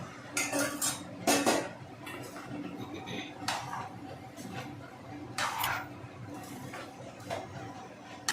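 A spoon clanks and scrapes against a metal pot while carrot, cauliflower and turnip pickle is mixed in spices, with irregular bursts of clatter separated by quieter moments.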